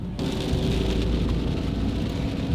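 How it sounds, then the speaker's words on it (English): Steady heavy rain drumming down around a camper van in Costa Rica's rainy season, a dense, unbroken close hiss with no voices. "The rain is coming down,"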